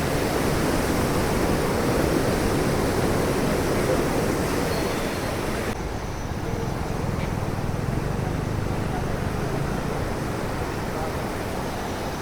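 A dense, unbroken roar of rushing floodwater fills the whole clip at Harike Pattan, Punjab, loud and steady like a swollen river in full flow.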